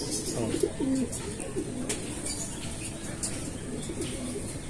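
A pigeon coos softly at a distance over a steady, noisy outdoor background, with low repeated calls across a few seconds.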